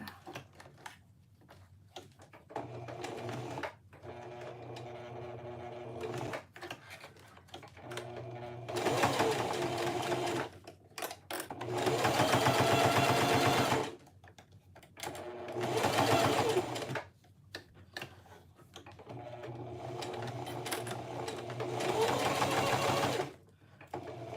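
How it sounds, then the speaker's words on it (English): A sewing machine stitches a phone sling made of cotton woven fabric in repeated bursts of rapid, loud mechanical whirring separated by pauses, with quiet clicks and handling sounds between runs. "can't believe this machine got me through like 3 years of sewing"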